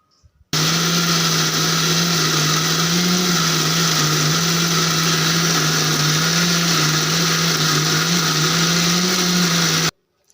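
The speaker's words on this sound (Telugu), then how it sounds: "ఇప్పుడైతే కొన్ని వాటర్ వేసేసుకొని అయితే మిక్సీ పట్టేసుకుందాము" A mixer grinder whirring loud and steady as it coarsely grinds foxtail millet with water for idli batter, a continuous motor drone running about nine seconds, then cutting off abruptly.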